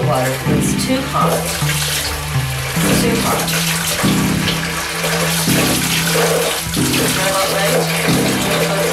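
Tap water pours steadily into a bathtub while a cat is being bathed, a constant rushing stream mixed with a louder, rhythmic tonal sound that runs throughout.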